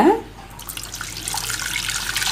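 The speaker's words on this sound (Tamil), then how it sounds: "இப்படி நல்லா தூக்கி ஊற்றணும். நுர வர அளவுக்கு இந்த மாதிரி நம்ம 2 வாட்டி இதில் மிக்ஸ் பண்ணணும்." Milk lifted high and poured back into a vessel to mix in curd starter gives a continuous splashing, frothy stream of liquid, fairly soft and close, with no talking.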